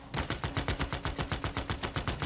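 Rapid automatic gunfire in a Civilization VI match as the Aztecs, a steady stream of sharp bursts firing in quick regular rhythm for about two seconds, close and loud with no talk over it.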